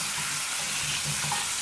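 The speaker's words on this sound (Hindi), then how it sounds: "अब इसमें मैं इसको अच्छी तरह भूनूंगी" Goat trotters (paye) frying in a pot for Lahori paye give a steady, even sizzle with soft stirring bumps, close and continuous, with no one talking.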